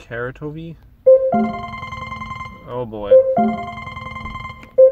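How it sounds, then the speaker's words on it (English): A mobile phone rings with a repeating melodic ringtone in clear bursts, close and fairly loud, after a man's brief speech. "That's my phone going off."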